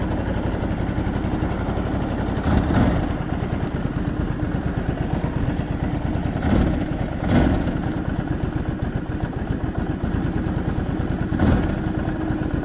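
A Ducati DesertX motorcycle engine idles after a cold start with a steady, lumpy, clattering throb, close and loud, broken by a few brief blips of revving.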